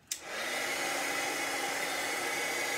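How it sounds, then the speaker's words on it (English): Embossing heat tool blowing steadily to dry a craft stamping project on clear blocks, a sudden click-on followed by a constant whooshing airflow hum held for several seconds, close and alone. "I'm gonna use my heat tool and just speed up the drying a little bit."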